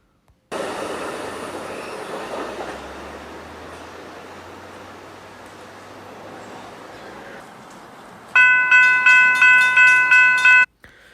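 A Surfliner passenger train passes at Fullerton, played back through a speaker. A loud rumble of wheels and cars fades gradually, then a burst of repeated horn blasts sounds near the end.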